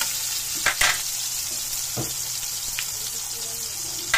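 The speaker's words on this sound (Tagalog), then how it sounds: "Mix natin yung kamatis." Tomatoes get stirred into squid adobo frying in a pan, a steady close sizzle with a few clinks and scrapes of the spoon against the pan near the start and middle.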